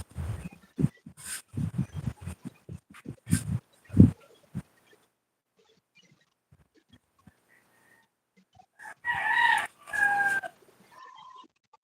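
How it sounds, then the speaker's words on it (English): A rooster in the Philippines clucks in a burst of short calls, goes quiet, then gives one loud, close crow near the end, with a faint trailing note after it. "I always thought cocks crow only in the morning,"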